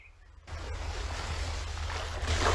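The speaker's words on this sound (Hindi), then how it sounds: "ये लहरों की आवाज" Ocean surf washes onto the shore in a steady, full roar that starts abruptly after a brief quiet moment and swells slightly louder toward the end, with no voices.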